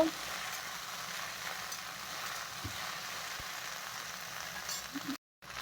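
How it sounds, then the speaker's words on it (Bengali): Chopped okra (ladyfinger) fries in oil with a little salt and turmeric, giving a soft, steady sizzle and hiss throughout, quiet and even, with a brief dropout near the end. "ভেন্ডিটা এখন আমি ভালো করে ভেজে নেব।"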